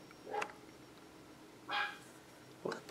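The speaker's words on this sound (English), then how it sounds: "That little barking noise is my newest little fur baby" A small dog barks indoors in three short, sharp yips spaced about a second apart, faint and somewhat distant in an otherwise quiet room.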